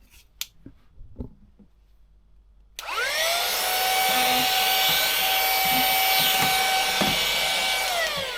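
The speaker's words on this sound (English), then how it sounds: "Vacuum cleaner" A vacuum cleaner with a brush accessory runs aboard a Nordhavn N51 motor yacht. A few quiet clicks and handling knocks come first, then the motor switches on with a rising whine and settles into a loud, steady roar close by.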